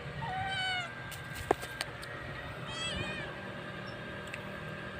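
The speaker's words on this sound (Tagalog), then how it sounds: "Ayan pusa natin na maganda" A house cat meows in short, harmonic calls, one near the start and another around the middle, fairly close and clear over a quiet room background with a few small clicks.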